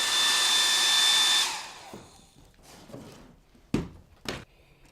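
A blow dryer runs loudly for about a second and a half, then switches off, followed by a few soft knocks and handling sounds.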